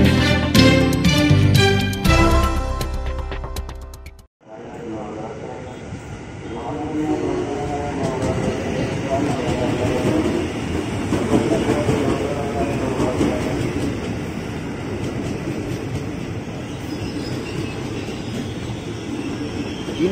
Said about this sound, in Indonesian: JR East 203 dengan livery baru.